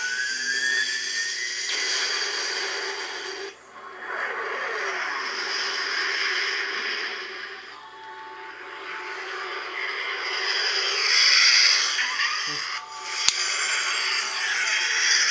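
A Hess 2021 toy jet's electronic strafing effects play continuously, a whine and whooshing with rising tones and buzzy bursts, loud and close.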